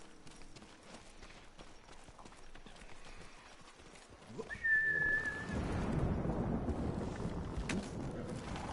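Horse hooves clip-clop in Ghost of Tsushima as a steed trots along, a steady rhythmic patter that turns louder and denser partway through, joined by a brief whistle-like tone.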